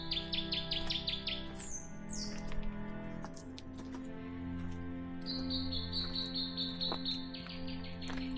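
Native New Zealand forest birds sing in the Maungatautari forest, repeated bright chirping phrases and trills echoing over a steady insect-like drone, fairly distant and continuous with no speech.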